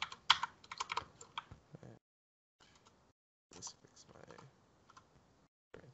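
Code being typed on a computer keyboard in quick clicking bursts, close and fairly quiet, with pauses between runs of keystrokes.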